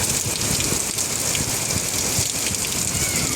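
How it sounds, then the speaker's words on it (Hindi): Heavy rain falls outside in a dense, continuous patter of drops hitting surfaces, loud and steady throughout with no one speaking. "बाहर इतनी तेज़ बारिश हो गई"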